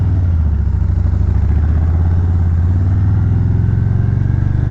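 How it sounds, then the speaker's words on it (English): Harley-Davidson Road Glide motorcycle engine running steadily and loud, a deep throbbing rumble with a constant low pulse, heard close and continuous without speech. "It make you just want to engine brake just so you can hear that."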